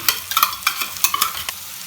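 A spoon stirring spice paste and curd into tomato masala frying in a pan: a series of quick scraping, clacking strokes at an uneven rhythm over a soft sizzle, close and clear.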